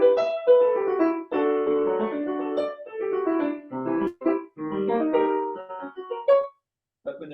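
Solo piano performance, rapid broken-chord patterns in bright phrases separated by short pauses, ending in a held note and then silence.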